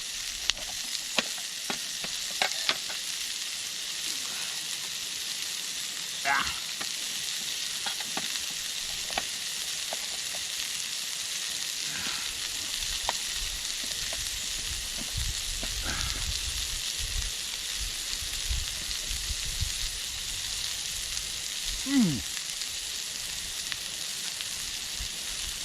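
A pepper frying on a Trangia camping stove, with a steady soft sizzle throughout and occasional stirring clicks and scrapes, fairly quiet and close.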